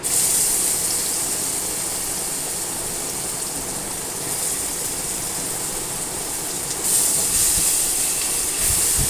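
Pre-made spice paste hits hot oil after the tempering spices have fried, for a vegetarian dhoka dalna, giving a loud, continuous steamy hiss and sizzle that swells again near the end, with no talking.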